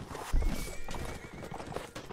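A horse in a medieval combat video game neighs loudly amid clopping hooves and the clatter of battle, a short close burst with no talk over it.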